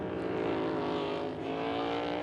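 NASCAR Cup Series race cars at Talladega Superspeedway roar past as a dense, sustained engine drone, loud and steady with no break across the short stretch, and no one speaks over it.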